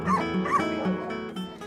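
Dogs at a hurricane-relief veterinary clinic in Puerto Rico let out a run of short barks and yips mixed with whimpering, close and fairly loud, several overlapping voices.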